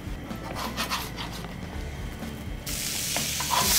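Blue cheese steak burgers sizzling in a pan, a loud close crackling fry with scraping and shifting noises, the sizzle swelling brighter toward the end.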